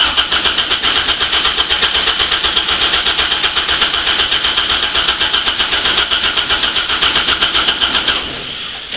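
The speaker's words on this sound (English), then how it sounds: "See if we've got another 10 seconds cranking left in it." A car engine cranks over steadily on a lithium-ion battery, a loud, even, rapid churning rhythm that runs for about eight seconds without firing, then slows and fades at the end.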